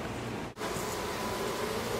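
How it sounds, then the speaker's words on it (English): Bees swarm in the soffit of a duplex, a continuous close buzzing hum that drops out for an instant and then resumes steadily. "There's just too many dang bees."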